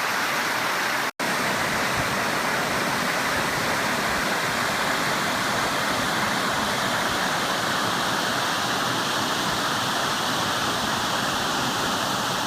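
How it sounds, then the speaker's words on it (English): A waterfall at Pictured Rocks National Lakeshore in Michigan pours onto a beach in a loud, unbroken roar of rushing water that holds steady throughout, with one brief dropout near the start and no talking. "Here's your beach with a waterfall behind it"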